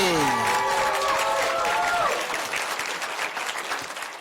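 An audience claps for middle school pitch teams at a competition, a dense burst of applause that fades over a few seconds, with a voice speaking over the start.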